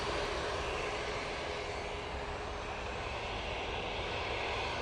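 A Ryanair jet airliner takes off along the full length of the runway, a steady, loud, even engine roar with broad hiss and low rumble, no voices.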